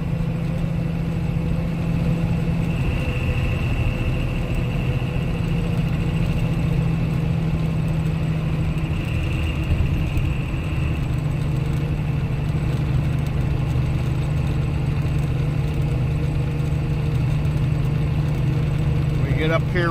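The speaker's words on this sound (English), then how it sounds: "we're driving a 1-ton with a Cummins in it" A 1-ton pickup with a Cummins diesel engine drives steadily on a road, its low engine drone continuous and close throughout, with a faint steady whine above it.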